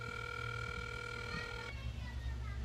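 A telephone rings on an outgoing call to a congressional office, heard as a steady electronic tone that holds for under two seconds and then cuts off, leaving faint background noise.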